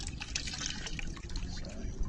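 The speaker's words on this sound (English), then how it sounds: "So we just wash the guts out." Water splashing and trickling while fish guts are washed out of a caught flathead or whiting outdoors, a faint, close, uneven sloshing and dribbling.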